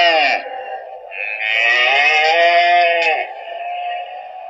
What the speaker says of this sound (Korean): 송아지를 돌보는 어미 소.